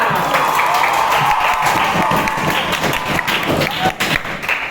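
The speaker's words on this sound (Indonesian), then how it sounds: "Oke, beri tepuk tangan." Pupils in a school classroom clap on cue during an Islamic religious education lesson, a lively burst of hand claps mixed with youthful chatter and shuffling that tapers slightly toward the end.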